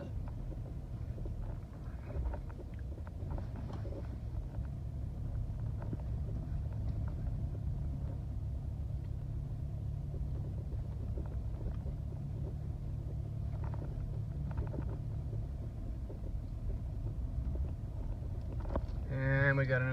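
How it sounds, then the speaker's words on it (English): An off-road vehicle approaching on a narrow dirt trail near a drop-off in Kings Canyon National Park, a steady low engine rumble under wind noise with voices talking nearby. "And we got another vehicle."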